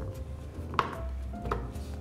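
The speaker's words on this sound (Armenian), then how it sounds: "Շատ մանր չեմ կտրատի։" A knife chopping carrots on a cutting board in a home kitchen, two distinct sharp knocks spaced apart against a low background hum, fairly quiet and close.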